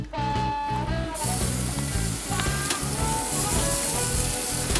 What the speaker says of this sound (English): That's the sound of a great sear.